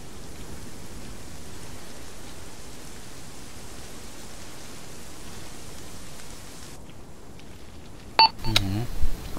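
Steady hiss of rain in the video game ArmA 3 pours evenly for several seconds, then cuts off, followed by a few electronic beeps and brief tonal sounds.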